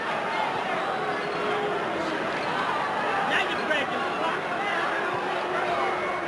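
Restless boxing crowd at the Mike Tyson vs Tony Tucker fight, a broad, steady arena murmur of distant chatter and hubbub with a few faint shouts, while a commentator talks over it.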